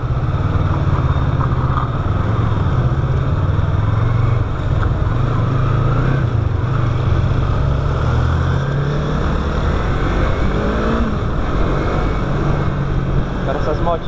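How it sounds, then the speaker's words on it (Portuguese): Two-cylinder motorcycle engine, a Yamaha MT-03 or Lander 250, droning steadily while riding, with a continuous low rumble and wind noise throughout. "Agora essas motinhas dois cilindros é gostosinha demais."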